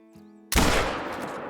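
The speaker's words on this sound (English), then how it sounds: "We're going to take a shot from right here with the 270." A single .270 rifle shot fired at a whitetail buck in the hunting video game Call of the Wild, a sudden loud crack after a quiet moment, followed by a long rolling echo that slowly fades.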